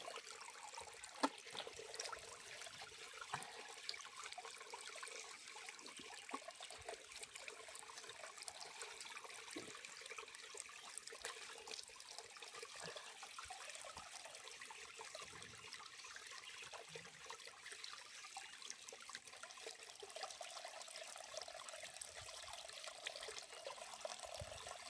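Cold spring water trickles and runs steadily at a mountain temple, a faint continuous wash of flowing water with no voices.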